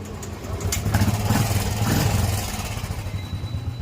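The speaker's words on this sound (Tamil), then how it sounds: "உங்களுக்கு வெஹிக்கிளை ஸ்டார்ட் பண்ணி பார்க்குறோம்." A Royal Enfield Classic 350 motorcycle engine idles steadily close by after being started, with a low, even thumping rumble that swells slightly and then settles.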